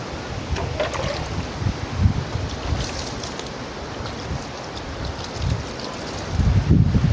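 Strong wind gusting outdoors in a yard heaped with fallen leaves, a steady rushing roar with buffeting bursts and rustling, louder near the end, with no voices.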